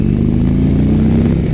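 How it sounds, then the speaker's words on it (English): A 2018 Indian Roadmaster motorcycle engine revving, a loud, close, thumping mid-range drone held steady for a moment, with no talk over it. "It's not until you actually start revving it up."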